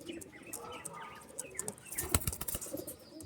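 Pigeons at a bird seller's outdoor stall give a soft, irregular flutter of wings with faint cooing, a busier burst of flapping near the middle, moderately close and fairly quiet, with no talk.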